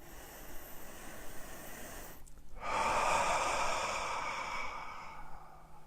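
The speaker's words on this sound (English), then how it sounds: "Take a deep breath." One long, deep breath: a brief pause, then a loud, airy exhale that slowly fades, close and alone with no talking.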